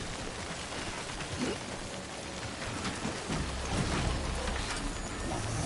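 Steady rain falls in the video game Death Stranding, a dense broadband hiss of drops on surfaces that swells slightly toward the end, with no talking.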